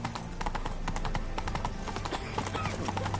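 Horse hooves of Roach from the Witcher 3 game clip-clopping at a steady gallop, close and continuous, with faint background ambience and a brief whinny-like tone.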